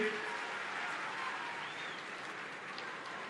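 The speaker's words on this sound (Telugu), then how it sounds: "గట్టిగా చప్పట్లు కొట్టి ఆశీర్వదించండి" Sustained applause from an audience at a public event with Chief Minister Chandrababu and students: a dense, steady wash of clapping that holds at an even level from start to finish.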